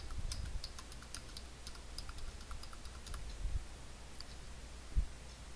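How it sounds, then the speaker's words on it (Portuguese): Quiet typing on a computer keyboard into the Windows search bar, a quick irregular run of soft key clicks with a small thump near the end, heard alone. "nós vamos digitar painel de controle"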